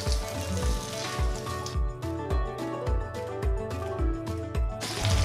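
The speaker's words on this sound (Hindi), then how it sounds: "अब हम इसमें डाल देंगे थोड़ा सा ऑयल, ये तकरीबन 1/4 कप ऑयल है" About a quarter cup of oil poured into a pan for frying mutton, sizzling steadily up close under rhythmic background music with a thumping beat.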